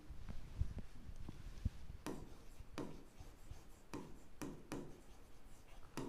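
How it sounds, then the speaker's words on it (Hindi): Pen scratching across paper while solving a class 9 algebra problem, with soft irregular writing strokes and several sharper drawn lines near and fairly quiet, no talk. "मैं थोड़ा लाइन खींच के और फिर लिखती हूँ"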